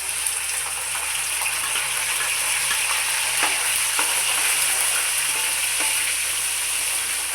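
Onion paste frying in a pan for ginger rasam gives a steady, dense sizzle that holds close and loud throughout, with a few faint scraping touches rising above it.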